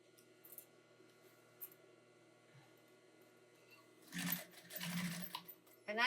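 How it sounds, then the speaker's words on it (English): A home sewing machine briefly whirs into action stitching an insulated casserole carrier, a short motor burst after a quiet stretch of faint handling noises. "Now I'll sew from this end, that fold, in."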